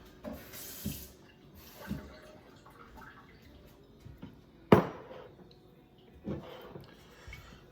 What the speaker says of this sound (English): I'm gonna splash a little bit of water in here.